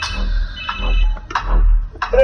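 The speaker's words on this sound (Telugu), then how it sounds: "ఫోన్ వస్తుంది చూడు, లిఫ్ట్ చెయ్యి." Telephone ringing in a Telugu political film scene, a loud electronic ring in short repeated bursts over a low rumble, with no speech.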